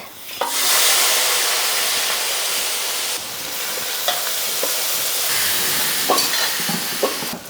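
Chopped onions hit hot oil already holding dried red chillies, bay leaves, cardamom, cinnamon and cumin for a duck curry, giving a loud, steady broadband sizzle with a few soft stirring knocks and no talking.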